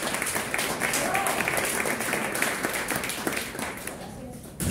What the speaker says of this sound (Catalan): així com un aplaudiment per vosaltres